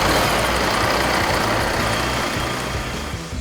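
A Cummins A26 engine runs steadily on a dynamometer in a durability test cell, a loud, dense, continuous roar with no pauses.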